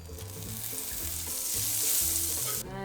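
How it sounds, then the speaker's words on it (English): Butter sizzling and crackling in a hot frying pan on a stovetop, a loud, steady, close hiss with faint clinks near the end. "Can you hear that sizzle?"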